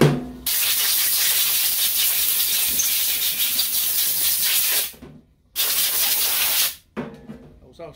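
Compressed air blasts loudly on a 4L60-E transmission reverse drum in a repair shop, a harsh sustained hiss that cuts off briefly twice before resuming, ending in a shorter burst.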